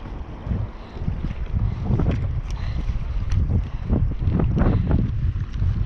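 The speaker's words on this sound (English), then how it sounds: "it's pretty windy out here. It's supposed to die down already, but we still have some wind gusts" Gusts of wind buffet the microphone in rough, uneven bursts, with splashing water around a small boat.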